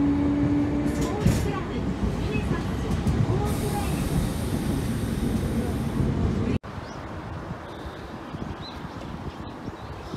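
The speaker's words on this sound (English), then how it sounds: "So right now we are getting on a tram car." Interior of a tram car rolling through Nagasaki, a steady rumbling hiss of wheels and motor throughout, with a sudden drop in level partway as the ride noise quiets, and no clear talk.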